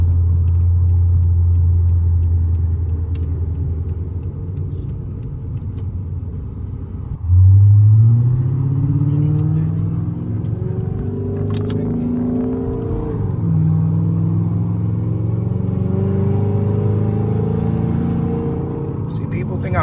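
A Chrysler 300C with a 5.7L HEMI V8 rumbles at idle, then the pedal is tapped and the engine revs sharply, rising and settling in a loud, close burst, with someone talking throughout.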